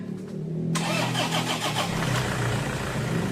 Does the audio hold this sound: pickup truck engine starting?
yes